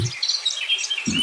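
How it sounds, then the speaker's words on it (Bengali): Birds chirp and tweet in the morning in a rural Bengali village, a dense layer of high twittering calls running through the short moment, fairly close and steady, with no voices. "সকাল হলো পাখির ডাকে,"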